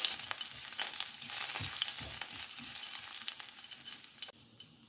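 Cumin seeds and chopped green chilies temper in hot vegetable oil, giving a dense crackling sizzle with scattered pops that eases slightly near the end.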